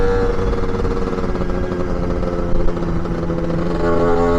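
A Lambretta or Vespa scooter engine revs steadily up close at a scooter rally, a continuous buzzing drone with a brief surge in the middle and rising again near the end.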